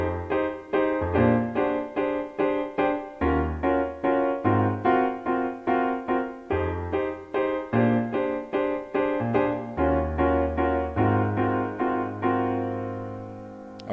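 A jazzy piano groove in C plays alone, with rhythmic repeated chords over a moving bass line, steady and moderately loud throughout.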